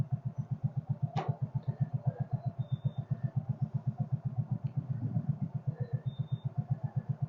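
Case 224 garden tractor engine running a wood splitter, a steady low-pitched single-cylinder thrum with an even rapid pulse at moderate distance, a brief sharp knock and faint outdoor sounds over it.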